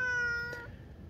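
A domestic cat gives a single soft meow that slides downward in pitch and fades within about half a second, heard close but quiet against a low background hum.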